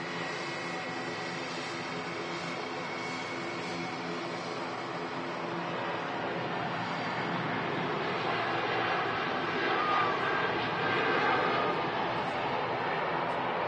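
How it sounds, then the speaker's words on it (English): A TUI Dreamliner airliner rolls down the runway at Manchester Airport for takeoff, a steady broad roar of jet engines and rushing wind that holds constant throughout, swelling slightly toward the end. "Tui Dreamliner rolling down the runway there."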